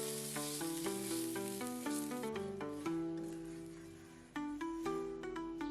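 Filling for crispy pan-fried gyoza fries in a pan with a soft, steady sizzle that is largely drowned out by louder background music.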